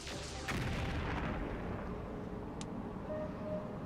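A mech fires a long-range shot in MechCommander 2, a heavy booming discharge amid continuous rumbling battle noise, with a brief sharp ping and a faint tone later.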